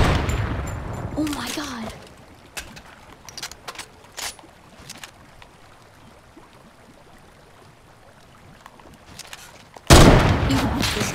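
Gunfire in the video game Fortnite: scattered sharp shots crack through a quiet stretch, then a sudden loud burst closes it. A player's voice exclaims over the action.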